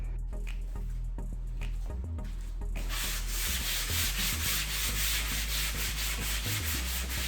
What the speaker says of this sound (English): So now I'm going to go ahead and start sanding my wood